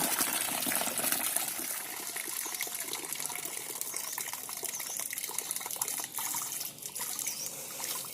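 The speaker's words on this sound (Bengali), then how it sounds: "একটা ছাঁচি গামলা দিয়ে এইভাবে জল ধরিয়ে ধরিয়ে ধানগুলো আবার তুলে নেব" Water gushes and trickles steadily as soaked paddy is scooped out with a strainer bowl and the water drains back, a continuous close pouring sound.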